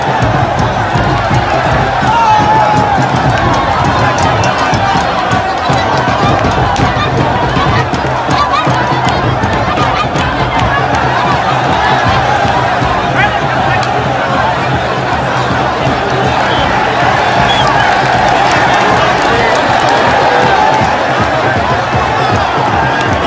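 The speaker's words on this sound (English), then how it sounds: "A massive crowd there you just saw" A massive crowd fills the streets at a Kwankwasiya movement campaign in Kano, a dense, steady roar of many voices and shouting that holds at high level throughout with no breaks.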